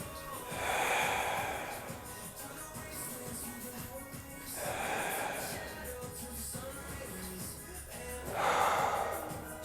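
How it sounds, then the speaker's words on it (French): Slow, audible breaths come three times, each a long airy exhale about four seconds apart, heard close during a glute stretching exercise. "Et je respire."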